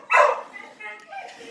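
Dog barking indoors in a home kitchen, one loud close bark followed by softer yips and whimpers, with a person talking nearby.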